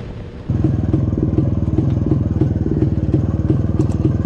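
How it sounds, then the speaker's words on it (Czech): A Jawa 250 motorcycle climbs a hill, its engine starting up loud and near with a rhythmic two-stroke thumping pulse that stays steady and labored throughout, no voices. "Motorka se krásně zahřála do toho kopce"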